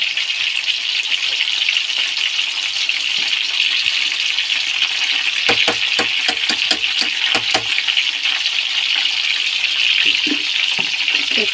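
Chicken marinated in calamansi and fish sauce fries with garlic, giving a steady loud hiss and sizzle with a short run of clattering stirring taps partway through.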